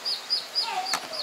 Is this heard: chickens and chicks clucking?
yes